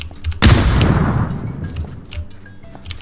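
A loud, close boom of gunfire in the PC shooter PUBG, with a sharp crack that rolls into a long reverberant tail, followed by fainter scattered clicks and a few distant shots.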